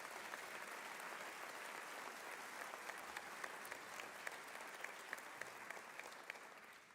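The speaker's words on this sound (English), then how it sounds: "Let's give them a round of applause" A police academy graduation audience gives a long, even round of applause, dense clapping heard at a moderate distance in a large hall, with a few sharper individual claps standing out near the end.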